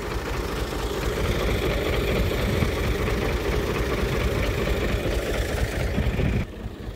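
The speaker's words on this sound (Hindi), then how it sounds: "ट्रैक्टर धक्के स्टार्ट है" A tractor engine chugs loudly and close by after being push-started, a steady low rumble that holds for several seconds before dropping away abruptly near the end.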